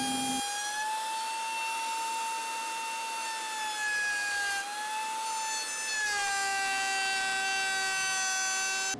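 A flush cut router shapes a wooden bench leg with a steady, high motor whine that dips and shifts in pitch as it cuts. It sounds close and continuous, with no talking.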